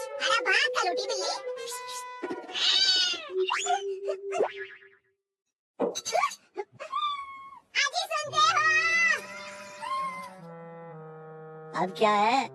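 Cartoon cat in a Hindi kids' cartoon about a poor fisherman, with exaggerated wailing meows and boing-like cartoon sound effects in several bursts and a short silent gap, loud and close.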